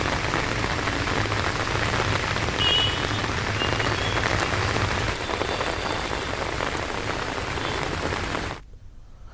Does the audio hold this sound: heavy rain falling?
yes